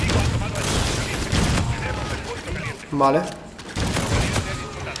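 Gunfire in a Call of Duty: Infinite Warfare multiplayer Hardpoint match, repeated bursts of close automatic shots with a brief pause between volleys, under someone talking.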